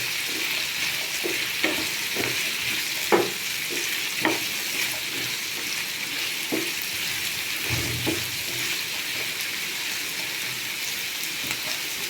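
Beef curry ingredients frying in a pan, steady broadband sizzle with scattered scraping clicks of a spoon stirring through, moderately close and continuous throughout with no talk.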